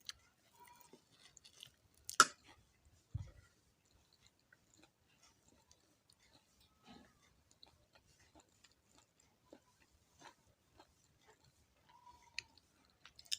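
Quiet, sparse chewing and small mouth clicks while someone eats a home meal of rice with fried greens, close and faint with long pauses between bites.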